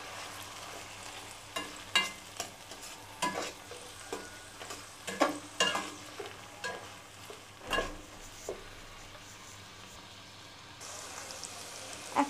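Onion paste frying in a pan for prawn malaikari while a spoon stirs it: irregular scraping strokes over a low sizzle, fairly close, with quieter gaps and no talking.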